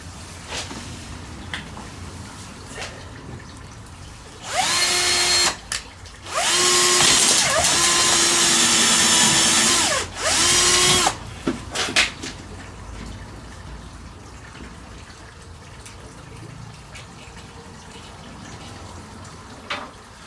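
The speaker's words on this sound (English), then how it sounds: "I'm going to drill straight into the wood and effectively use the washers just to grip the polycarbonate." A power drill bores through polycarbonate sheet into wood while building a garden cold frame, with several loud whirring bursts of a few seconds each separated by short pauses, then quieter handling noises.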